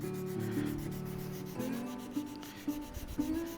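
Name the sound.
sanding knife handle scales with 400-grit sandpaper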